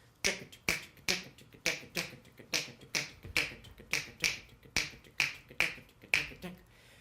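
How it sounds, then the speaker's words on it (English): Quick, close finger snaps in a syncopated clave rhythm of grouped clicks that repeats over and over, bright and sharp against a quiet background. "and we look at the clave rhythm, that sounds like this."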